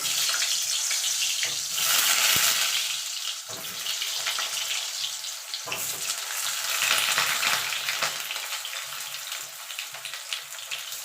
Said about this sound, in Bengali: দেখুন বন্ধু তেলটা গরম হয়ে গেছে, এবার আলুটা দিয়ে দেবো।